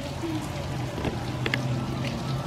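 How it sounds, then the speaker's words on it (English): Steady rain falls outside a back window in the Washington DC area, a soft continuous patter with a few scattered drip and tap sounds, heard from indoors without voices. "it's raining in the metropolitan Washington DC area."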